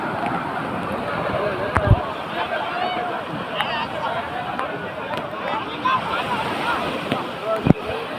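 Sea waves wash the shore at the Nishkalank Mahadev temple, which stands out in the sea, as a constant surging wash under a crowd's chatter and nearby voices, with a couple of sharp knocks.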